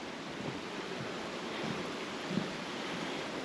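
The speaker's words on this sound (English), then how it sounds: "Nice water flow here." Creek water flowing along the Rogue River Trail after overnight rain, a steady broadband rush with no pauses, moderately loud and even, with faint gusts of wind noise.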